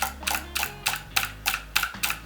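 A mechanical keyboard and mouse click in a steady, evenly spaced rhythm, paired clicks landing together about every third of a second while bridging in Minecraft, close and crisp with no talk.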